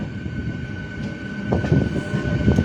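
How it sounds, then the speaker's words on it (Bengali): A train of rail cars rumbles steadily into platform four at Krishnanagar City Junction on an inaugural special run, a continuous low mechanical roar with a faint sustained whine and a few soft clanks, moderately close, with no voices. "কৃষ্ণনগর সিটি জাংশনের চার নম্বর প্ল্যাটফর্মে প্রবেশ করছে কৃষ্ণনগর আমঘাটে ইনাগুরাল স্পেশাল ট্রেন"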